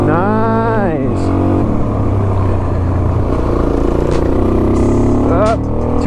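A Suzuki DRZ400 dirt bike with an FCR carburetor lugs in too high a gear on Kenda K270 tires, its engine droning loud and steady with rising revs at the start and someone talking over it.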